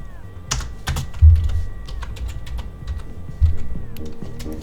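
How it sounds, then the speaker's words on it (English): Close, steady typing on a computer keyboard while coding a Roblox Studio game, with irregular rapid key clicks and a couple of heavier thumps, probably the space or enter key, and no voice. "Now I'm typing these in all caps."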